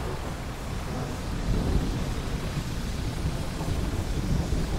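Thunderstorm in the video game Dredge: a steady, dense roar of rain and rolling thunder fills the whole span at an even loudness, swelling slightly midway, with no voices.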